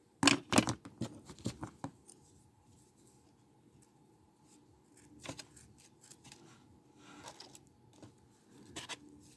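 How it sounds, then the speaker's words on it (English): Dull scissors snip through Christmas ribbon in a few sharp crisp cuts near the start, then quieter scattered rustles and further snips, all close and fairly faint in a quiet room. "Dull scissors, gosh."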